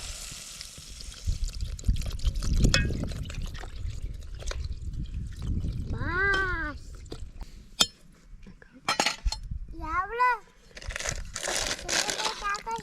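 Water is poured into a cooking pan of freshly fried fish curry on an open fire at a riverbank, a running trickle mixed with crinkling and light clinks of utensils, with people talking over it.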